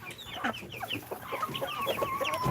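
A rooster crows repeatedly alongside clucking fowl on a farm, a steady run of close, moderately loud calls with no talking.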